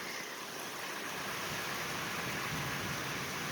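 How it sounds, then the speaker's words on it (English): Heavy, steady rain pours down in the high desert, a dense, continuous hiss of a soaking storm that stays loud and even throughout with no voices. "thank God for the good soaking rain"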